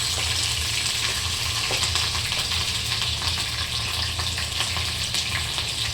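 Green chilies dropped into hot oil for a sabudana dish crackle and sizzle steadily, a dense, continuous frying hiss close to the pan with no talking.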